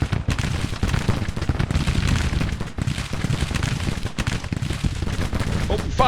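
Rapid, crackling volleys of musket and cannon fire in a Civil War strategy video game, a steady dense clatter of shots running the whole way, moderately loud.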